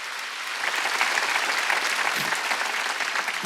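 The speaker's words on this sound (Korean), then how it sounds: "박수 치려지 않아도 박수 치네요." A church congregation breaks into steady, dense applause during a Wednesday worship service, the clapping swelling after a brief quieter start and continuing loudly throughout.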